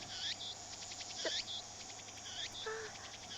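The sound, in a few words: chirping of cicadas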